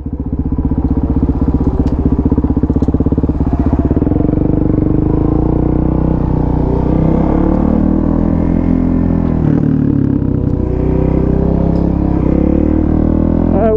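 A Suzuki DRZ supermoto's single-cylinder engine idles and burbles up close, loud and steady, with a quick rough throttle blip and a clattery note as the bike sits and then pulls away.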